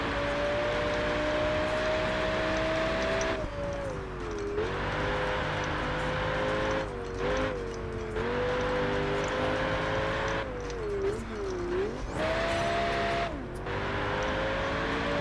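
BMW race car engine in Project Gotham Racing 4, a loud sustained drone with rising and falling revs and gear shifts throughout, no talk.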